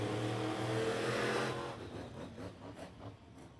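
A monster truck does donuts on the backstretch at Bowman Gray Stadium, its engine roaring loudly at first, then dropping to a quieter, pulsing rev as it turns.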